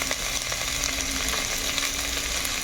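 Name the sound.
frying cabbage paste with garlic, salt and turmeric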